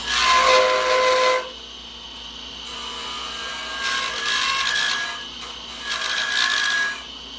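Wood lathe gouge squealing as it cuts, the wing of the gouge used on the edge like a skew and taking too heavy a cut; bursts of high rasping squeal in three passes separated by quieter gaps.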